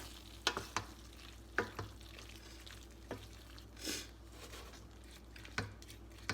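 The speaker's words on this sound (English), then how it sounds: "So I got that garlic and soy sauce all mixed back in." Garlic and soy sauce being stirred into a pot of simmering garlic chili, with soft sizzling underneath and several sharp spoon clacks and scrapes against the pot at irregular intervals, close and fairly quiet.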